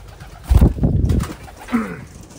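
Pigeons cooing in a loft: a few low, soft throaty coos close by, a burst followed by a fainter rolling coo, with no talk.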